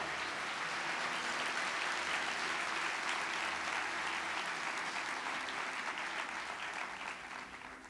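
A church congregation applauding during a sermon: a thick, sustained roar of many hands clapping at full strength for several seconds, then gradually thinning toward the end.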